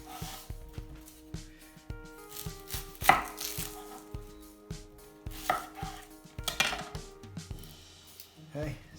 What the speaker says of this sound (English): chop the onion in slices like so